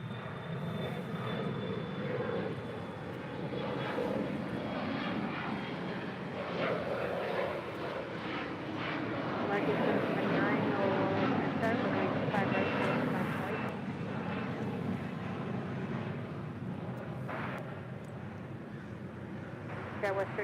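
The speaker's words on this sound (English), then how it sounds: "American Airlines flight 779 also heading to Boston," An American Airlines A321 airliner at LAX, bound for Boston, sends out a continuous jet engine roar that swells slightly midway, with voices murmuring underneath.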